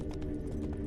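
Hooves of a galloping horse clip-clop steadily in The Witcher 3 video game, a brief rapid rhythmic patter set over a low rumbling game backdrop.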